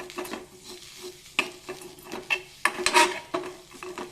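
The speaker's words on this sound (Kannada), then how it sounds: "ಈಗ 4 ಹೆಸಳು ಕರಿಬೇವು ಹಾಕ್ತೀನಿ." Curry leaves sizzle in a hot pan with a low frying crackle, broken by sharp scrapes and clinks of a spoon stirring, in irregular bursts close by.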